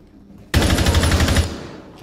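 Rapid automatic gunfire from the video game Rainbow Six Siege bursts in loud and close after a short quiet start, a sustained stream of shots lasting about a second before trailing off.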